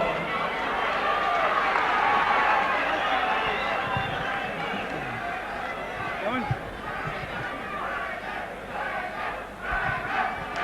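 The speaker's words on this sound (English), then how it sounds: "The crowd here at the St Albans Indoor Complex have gone absolutely crackers for these two super heavyweights" A roaring indoor crowd at the St Albans Indoor Complex cheers a super heavyweight boxing bout. The noise is dense and sustained, with shouts rising out of it and a commentator's voice running underneath.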